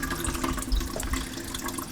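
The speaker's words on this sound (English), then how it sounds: "So we're draining out the fluids right now." Coolant drains out of a Honda Civic radiator in a steady, quiet trickling splash, a short continuous pour heard close by without any talk.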